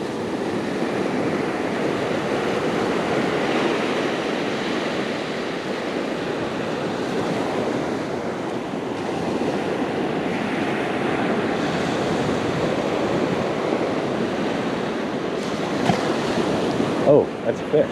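Ocean waves wash onto a beach in a continuous loud surf roar with some wind buffeting the microphone, and no one speaks.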